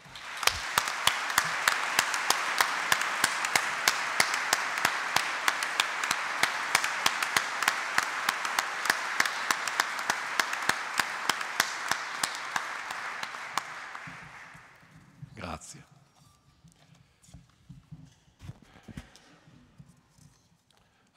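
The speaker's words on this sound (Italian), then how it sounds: "Vi chiedo di salutarlo con un applauso" An assembly audience at Confindustria Piacenza applauds steadily and loudly for about fourteen seconds, then the clapping thins out and fades to scattered claps and room noise.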